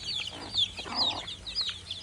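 Chickens in a backyard compound, raised on black soldier fly larvae, cluck and chatter as they gather to feed, with repeated short calls from several birds at close to mid distance over a soft farmyard background.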